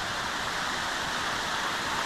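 Laurel Falls waterfall at low water level during a dry spell, a steady broadband rush of falling water filling the clip, loud and continuous with no voices.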